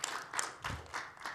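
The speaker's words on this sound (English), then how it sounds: "We give the round of applause" Applause from a conference audience at a food security meeting in Asia and the Pacific, faint and distant, with a few scattered claps in uneven bursts.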